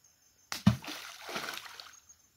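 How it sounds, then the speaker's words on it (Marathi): An object is thrown into water and lands with a single sharp splash, followed by a short slosh and trickling that fade within about a second, outdoors. "फेक कुठे फेकू रे पाण्यात फेक ना."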